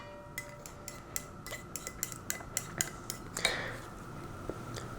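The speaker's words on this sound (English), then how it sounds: "I'm going to just take a second to break up the yolks before I add them" A utensil clinks rapidly against a bowl, breaking up egg yolks before they go into a stand mixer for sourdough challah, a quick run of light taps that ends in one louder scrape.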